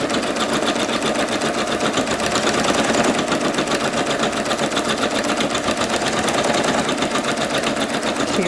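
A Singer Legacy SE-300 embroidery machine runs satin and buttonhole stitches, a fast, even mechanical clatter with a rapid needle rhythm, close and continuous throughout.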